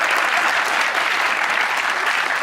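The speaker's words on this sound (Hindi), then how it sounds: "इनके अब्बा के लिए तालियां" Studio audience applause on a Pakistani talk show, a continuous, dense wash of many hands clapping at even loudness throughout, with no talk over it.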